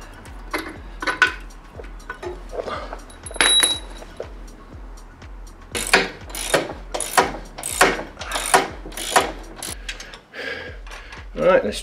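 A hand ratchet clicks in short rhythmic bursts as bolts are undone to lower the differential of an Audi 2.7 bi-turbo supported on a jack, with metallic clinks between the runs and a voice speaking at times.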